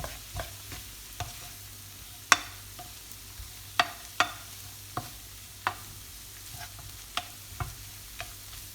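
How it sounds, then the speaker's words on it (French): A tomato filling mixture stirred in a pan for stuffed panini-style rolls, with a soft continuous sizzle under irregular sharp scrapes and taps of the spoon against the pan. "Et puis je vais mélanger le tout ici."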